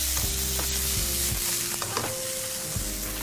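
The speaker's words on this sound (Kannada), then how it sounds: "ನೆಕ್ಸ್ಟ್ ಇನ್ನೊಂದು ಒಗ್ಗರಣೆಗೆ ಹಾಕೋದಿದೆ." Tomato goes into hot oil for an egg recipe's tempering, giving a continuous close sizzle broken by several scraping stirs of a utensil in the pan, with no talking.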